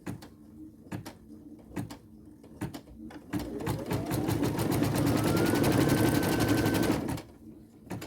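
A sewing machine stitching the little arms onto a nativity figure, a few single needle clicks and then a steady rapid rattling run of several seconds that rises in pitch, close and loud, before stopping.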